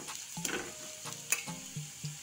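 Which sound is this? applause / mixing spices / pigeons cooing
mixing spices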